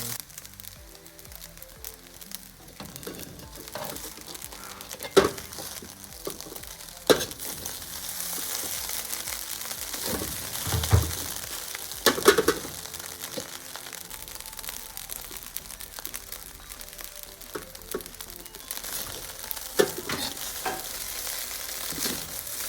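Nuts fried rice stir-fried in a pan gives a soft, steady sizzle with scattered scraping and clinking of a spatula, a few sharper knocks standing out now and then.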